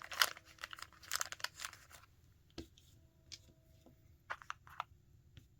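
A small box of stickers and dice is opened by hand with bursts of crinkling and tearing at the start, then sparse taps, rustles and small clicks, close and quiet.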